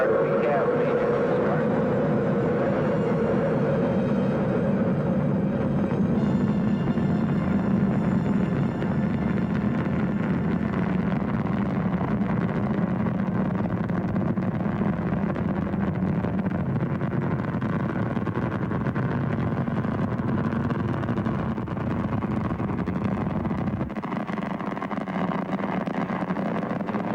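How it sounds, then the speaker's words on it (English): Space shuttle main engines igniting at launch give a loud, continuous broadband roar and rumble that holds steady throughout, with a shift partway through. "We have main engine start."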